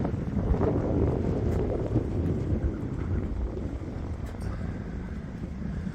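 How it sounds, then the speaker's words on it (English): Wind of up to 20 knots blows across a boat anchorage as a constant, full, low roaring rush of buffeting, with no voices over it. "We do have up to 20 knots of wind in this anchorage"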